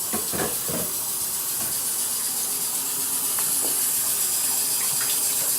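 Tap water runs steadily into a kitchen sink to rinse dishes, a constant hissing splash close by, with faint clinks of items being handled under the flow.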